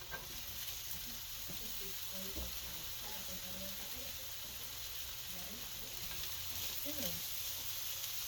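Sausage sautéing in a pan for a keto bacon and cabbage dish, a steady close sizzle and hiss with faint scraping, while a voice talks softly underneath.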